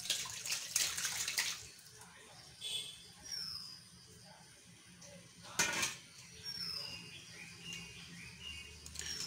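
Curdled milk poured through a wet cloth in a strainer to make paneer, giving soft splashing and trickling water sounds in bursts, fairly close, with quiet gaps between pours.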